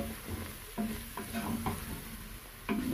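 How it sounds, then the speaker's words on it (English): Beef wet fry with spices sizzling in a pan while a utensil stirs it, soft scraping strokes over a steady frying hiss, fairly quiet and close. "put a good stir. Because I want all the spices to"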